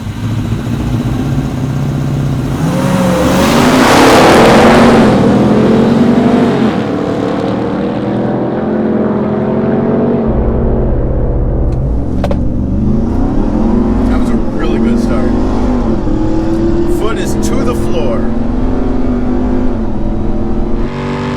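A Ram TRX pickup and a Hennessey Mammoth truck launch in a drag race, with loud engine roar swelling and then fading into the distance. Voices talk over the engines for part of the time.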